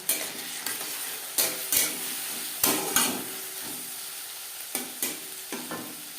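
Spices and okra sizzle over low to medium flame in a pan while a spoon stirs them, scraping in bursts of scrapes and clinks over a steady frying hiss, close and clear with no talk.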